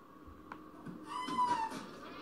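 A kitten in the Friday the 13th Killer Puzzle video game gives a single faint, rising meow near the end after a quiet stretch, with no talk over it.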